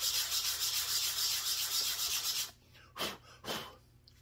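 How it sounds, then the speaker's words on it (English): Rapid rhythmic scratchy rubbing of sandpaper on small wooden pieces, close and steady for a couple of seconds, then two short separate strokes. "you can just kind of sand these pieces here"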